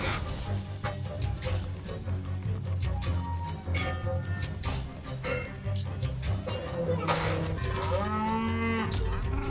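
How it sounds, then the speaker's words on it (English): A cow moos loudly in the Mario Strikers Charged soccer video game. Several drawn-out lowing calls rise over dense game music and effects, with a final longer moo near the end. "Shit, cow!"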